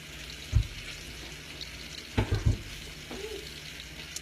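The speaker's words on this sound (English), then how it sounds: "So we got our scallops going in our pan." Scallops searing in a pan over medium-high heat, a steady soft sizzle with a few brief louder clatters and pops.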